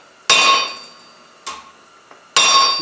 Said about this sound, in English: We're going to hammer down.